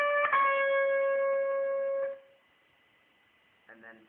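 An electric guitar rings out a few sustained notes from the opening of a song, letting them decay before they are cut off, then a short plucked phrase follows after a pause.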